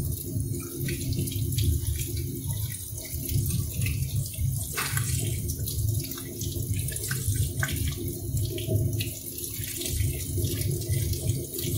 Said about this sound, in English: So I'm going to turn on the water and we can get started.